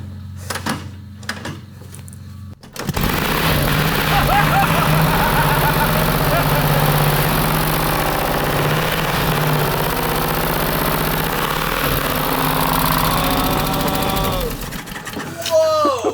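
Motorcycle engine fired by a kick start, a brief quiet lead-in, then a loud, rough, steady running engine for about twelve seconds before it sputters out, with a person talking over it.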